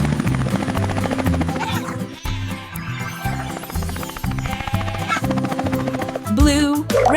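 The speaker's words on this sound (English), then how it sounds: "Helicopter!" A toy-like helicopter sound plays with a rhythmic chopping buzz and musical tones, busy and loud, ending in a quick rising whoosh.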